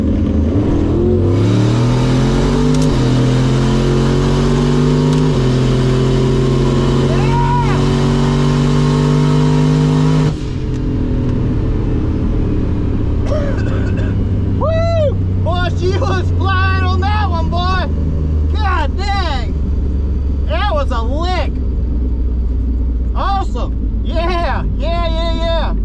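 Turbocharged Dodge Dakota RT with a stock bottom end on a quarter-mile drag strip, loud engine revving up through rising gear pulls before fading, followed by crowd chatter and voices nearby.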